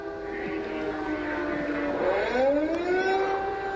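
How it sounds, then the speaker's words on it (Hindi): A wailing air raid siren in Lviv, Ukraine, during the Russia-Ukraine war, blares steadily, its pitch sliding down and then climbing again. Several tones overlap, sounding loud and somewhat distant. "लवीव में ही ये एयर रेड सायरन अलर्ट जो है"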